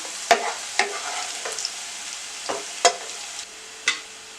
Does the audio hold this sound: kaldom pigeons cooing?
no